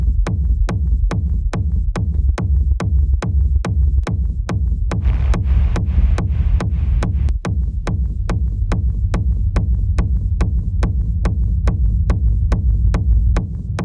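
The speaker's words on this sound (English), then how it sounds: "You'll hear how the tone of the rumble changes." Hard techno rumble bass built in Reason: a loud, deep, steady low-end drone pulsed by evenly spaced sharp kick hits, the rumble's tone shifting slightly midway, with no voices.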